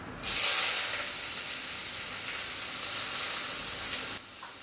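Onion with sliced carrots and beans frying in hot oil, a loud steady hiss that starts abruptly and runs evenly for about four seconds before dropping away, no talk.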